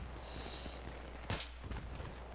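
A single sharp gunshot cracks out over a low steady hum of game background noise in Battlefield 3 Team Deathmatch on Noshahr Canals, followed by a couple of fainter pops.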